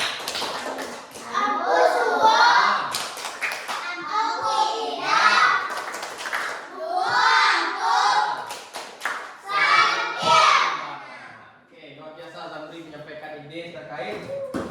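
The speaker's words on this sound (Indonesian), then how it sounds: "Tepuk tangan untuk Zamri dulu." Classroom applause for a student, with bursts of clapping and taps from a group of children mixed with lively kids' chatter and a teacher's voice, rising and falling in several waves before fading to quieter talk.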